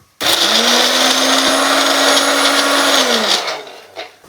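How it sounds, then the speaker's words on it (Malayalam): A kitchen mixer grinder crushes garlic, ginger, green chilli, coriander and mint in one loud, close, continuous whirring burst of about three seconds that then winds down to a stop. "നമുക്ക് ഈ വെളുത്തുള്ളി, ഇഞ്ചി, പച്ചമുളക്, ഈ മല്ലിയില, പുതിനയില ഒന്ന് ക്രഷ് ചെയ്തെടുക്കാം"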